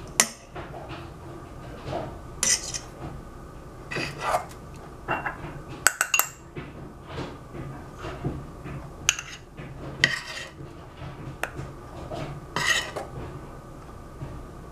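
A spatula scraping thick chocolate mousse from a bowl, a string of clinks, taps and scrapes against the bowl at an uneven pace, close up with a few louder knocks.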